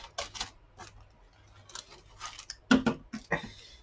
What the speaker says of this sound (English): This one needs some trimming on the side. And I've got a pair of scissors near me.